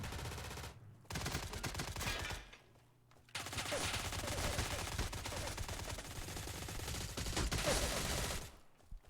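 Video game gunfire in a PvP match rattles in long, dense automatic bursts, loud and continuous, broken by a couple of short pauses.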